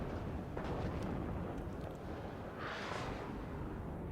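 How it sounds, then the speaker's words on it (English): Grad rocket artillery fire in the video game WARNO: a continuous heavy rumbling barrage with scattered crackling impacts and a brief rising whoosh near the end, with no talk. "More grad fire coming in against the units in the middle"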